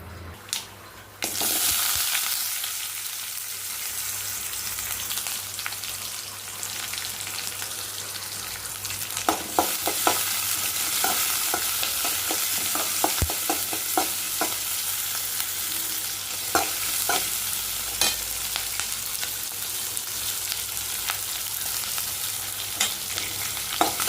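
A vegetable poriyal with masala fries in a pan with a loud, steady sizzle. A utensil stirs and scrapes it repeatedly, with sharp clinks scattered throughout. Nobody talks.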